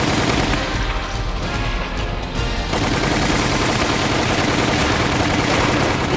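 Dense, loud gunfire rattles continuously from Resident Evil: The Umbrella Chronicles, a near, sustained burst of rapid shots with no talking.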